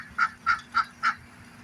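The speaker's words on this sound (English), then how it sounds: "And that's our duck." Four evenly spaced, nasal honking calls from a waterfowl, fairly close, with quiet background in between.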